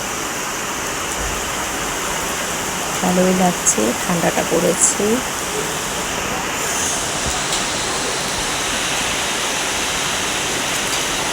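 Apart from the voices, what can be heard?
heavy sudden rain in Sikkim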